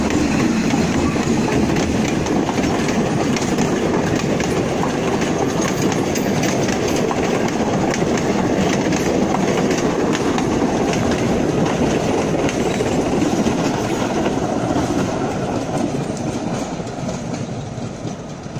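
A train carriage rolls steadily along rails on the line to Machu Picchu in Peru, a loud continuous rumble and rattle of wheels and wagon that fades slightly toward the end.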